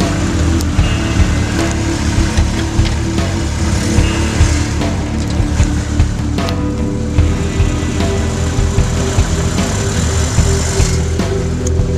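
A car engine idles steadily and close by, a dense low rumble that runs unbroken for the whole stretch with no distinct impact from rolling over an object.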